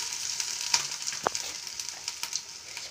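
Steady sizzling and crackling of ginger frying in hot oil with cumin and mustard seeds, fairly quiet, with a few sharper pops and a stirring scrape.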